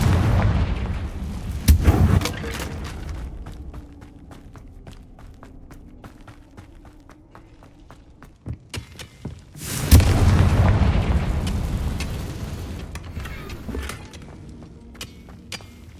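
Confringo blasting spell explosions in Hogwarts Legacy, two heavy booms about eight seconds apart, each with a broad crackling burst and a rumbling tail, with scattered game effects and soft steps between them.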